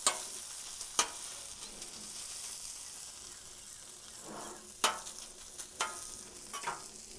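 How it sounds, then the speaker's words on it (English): Continuous bright sizzling of pizza ingredients frying on a hot Blackstone griddle, with occasional sharp clicks and scrapes of a utensil. "You can hear a little more sizzle as it's directly on the Blackstone."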